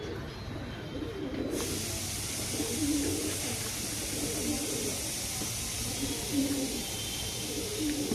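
Rakdar pigeons coo softly and repeatedly against a steady hissy background, the low throaty calls recurring every second or so at moderate distance, with no clear talk.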